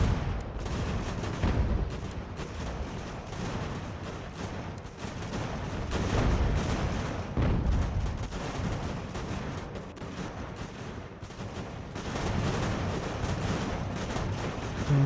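Artillery booms and massed musket fire in the game Ultimate General: American Revolution, rolling volleys and distant cannon thuds blending into a constant battlefield roar.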